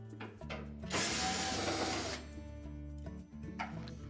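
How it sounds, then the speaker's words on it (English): A ratcheting tool clicks and whirs in quick bursts, with one longer buzzing stretch of mechanical rattling, removing screws from a Whirlpool dryer panel, close by with no talking. "Now next we'll remove 4 screws across the bottom, and then 3 more across the top."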